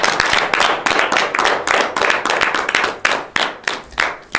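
Audience clapping at a French variety broadcast, a close, steady burst of many hands with slightly uneven rhythmic pulses running the whole time.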